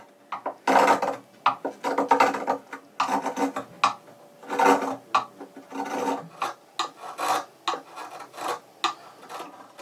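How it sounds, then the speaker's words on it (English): A chisel shaves an ebony violin nut in repeated short scraping strokes, each a dry rasp separated by brief pauses, close and clear with no talking. "Very carefully, he chisels the sides of the nut to match the width of the neck and the fingerboard."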